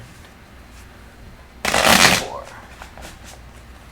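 A tarot deck is shuffled in one quick riffle, a loud close burst of flapping cards lasting under a second amid quiet room tone, with a voice speaking just before.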